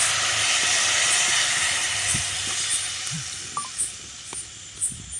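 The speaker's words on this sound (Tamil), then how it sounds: "இந்த ஊற்றும்போது அந்த உஸ்ஸுன்னு சவுண்டு வருது இல்லையா" Dissolved curry poured into hot tempering with green chillies hits the oil in a loud, broad sizzling hiss. It fades gradually and ends with a few small pops and clinks.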